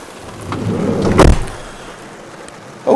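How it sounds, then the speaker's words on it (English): Steady rain patters around a 2001 Autosleeper Trooper pop-top camper van, a broad hiss that swells briefly in the middle, with no talking heard. "let's get in the rain, out of the rain rather"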